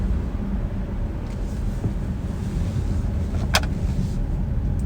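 A 2022 Acura MDX Type S accelerates hard from a standstill toward 60 mph, its engine and road roar heard from inside as a steady, loud, building drone with no talk.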